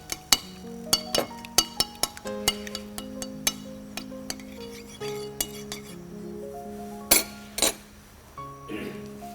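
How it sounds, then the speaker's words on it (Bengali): An egg seasoned with chaat masala is beaten in a bowl, with a utensil giving a string of sharp, irregular clinks against the rim over soft background music. "এখন ডিমটাকে আমি ভালো করে ফেটিয়ে নিচ্ছি।"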